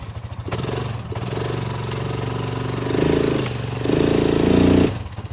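A Cub Cadet Challenger MX 750 EPS utility vehicle from 2020 drags a load: a steady, loud mid-pitched engine drone that labours and rises in two strong swells near the end before dropping away.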